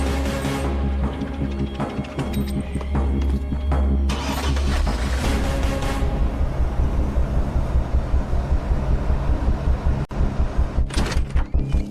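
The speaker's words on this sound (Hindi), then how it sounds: "गाड़ी चालू कर।" A car engine starts with a cranking whir, then catches and settles into a loud, rough running rumble that pulses steadily close by.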